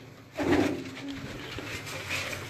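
A favourite pet pigeon gives a close, soft coo, a single short throaty call rising out of quiet surroundings before fading into low ambience.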